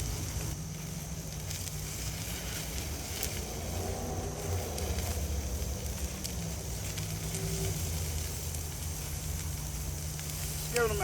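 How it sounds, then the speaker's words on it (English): Chicken thighs grill over an open campfire with a low, steady crackle and sizzle beneath a faint murmur of background sound, while a voice speaks quietly at moments. "Now we'll swing this on the fire, let them grill for a bit."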